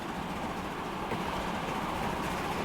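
A steady rumbling train in Transport Fever 2 running into Basingstoke, a fairly quiet continuous rolling drone with no distinct beats and no speech.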